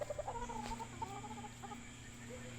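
Soft, low clucks from white gold hens murmur close by against a steady background hum, fading slightly toward the end.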